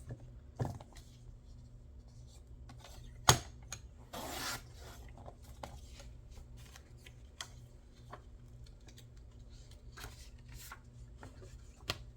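A beaded pen is shaved down by hand, giving a sharp scrape and then a short, louder rasping burst against a quiet background, with no talking.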